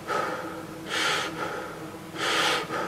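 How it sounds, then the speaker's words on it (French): Two sharp inhalations through an FFP2 mask during a fit test, close and breathy, separated by a pause with softer breathing between them. "Donc vous voyez, quand j'inspire,"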